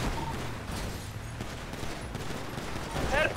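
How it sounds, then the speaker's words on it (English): Gunfire in GTA 5 roleplay rattles in bursts of quick shots amid engine and street noise, fairly faint and distant, with a voice briefly speaking near the end. "He's shooting. Shoot back at him."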